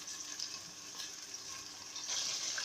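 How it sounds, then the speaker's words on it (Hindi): Chicken frying in a karahi for white chicken karahi gives off a steady, close hiss of sizzling oil, growing slightly louder toward the end, with no voices. "चिकन हमारा फ्राई हो रहा है।"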